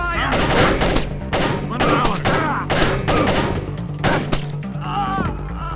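Gunfire in the Splinter Cell video game: loud, repeated bursts of rapid shots come in clusters, with sharp impact thwacks, close and dominating the mix.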